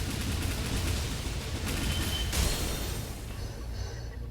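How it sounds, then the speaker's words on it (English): Explosion in the Ender Magnolia video game, a dense crackling, rumbling burst of blasts that swells and then gradually tapers, loud and close against a busy game backdrop. "Like even that explosion"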